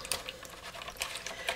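Water sloshing and splashing in a tray as a stencil used with wood icing is rinsed, a soft, close, continuous trickle with small splashes and no talking.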